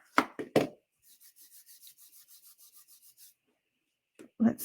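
Rhythmic, soft rubbing strokes of an embossing buddy pad passed across cardstock, about a dozen even swipes in a steady run, with a few brief knocks and handling sounds before and after.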